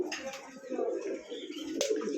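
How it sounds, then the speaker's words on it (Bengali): A pair of Saharanpuri pigeons coo softly and close by, a low burbling roll repeating through the moment with a brief sharper sound near the end. "এখানে খুবই সুন্দর এক জোড়া কবুতর আছে"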